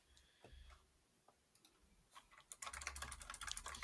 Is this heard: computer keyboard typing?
yes